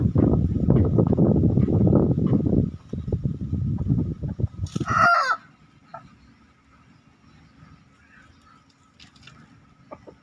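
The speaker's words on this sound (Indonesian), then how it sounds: "jadi ini tadi ayam jago muda ya" A young crossbred rooster gives a short, squeaky crow after several seconds of loud rumbling noise, then the scene falls nearly quiet.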